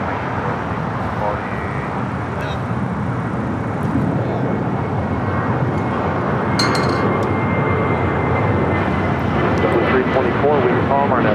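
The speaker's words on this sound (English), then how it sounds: "This is Southwest Airlines 3642 taking off to San Antonio" A Southwest Airlines jet taking off from LAX bound for San Antonio, its engines a continuous broad roar holding steady throughout, with someone talking over it.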